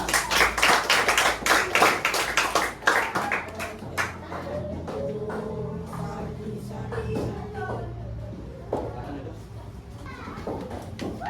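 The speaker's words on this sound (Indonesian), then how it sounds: "beri tepuk tangan untuk kelompoknya Sena" Students in a classroom clap for a presenting group, a burst of rapid, lively clapping that fades after a few seconds, followed by a teacher talking.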